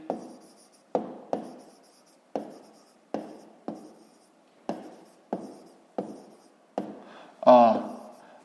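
A pen writes on paper in short, crisp scratching strokes repeated about ten times, close and fairly quiet, with no talking.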